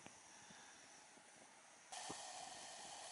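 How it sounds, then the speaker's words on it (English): Sausages sizzling in a pan over a spirit burner at a wild camp in the Black Mountains: a steady, close, bright hiss that jumps noticeably louder partway through, with no voices. "Sizzling away."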